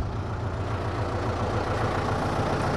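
Tractor engine idling steadily while loading river sand, a low continuous rumble close by, with no talk.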